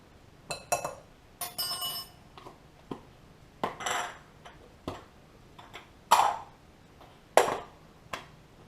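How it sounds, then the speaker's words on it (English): A utensil clinks against a bowl in a series of separate scrapes and taps while salt and baking powder are stirred together for biscuits, close and fairly quiet, with no talking. "Stir it all together."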